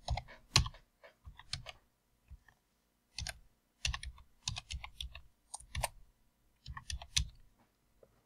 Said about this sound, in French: je tape le mail de mon bassiste